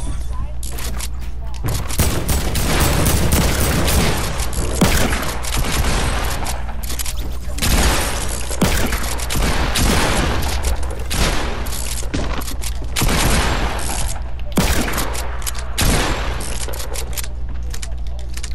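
Fortnite gunfire rattles in dense, loud bursts of rapid shots with heavy low thumps beneath them, nearly continuous across the stretch and broken only by short gaps, while voices talk over it.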